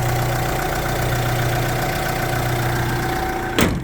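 A 2019 Opel Movano L1H1 van's engine idles under the open hood, a steady close hum with a low tonal drone, ending in a short sharp whoosh near the end.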